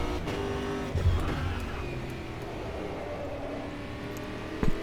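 A Panoz GTR-1 race car in Automobilista 2 runs with a droning engine while its tires lock up under braking, giving a short skidding squeal amid the steady motor noise.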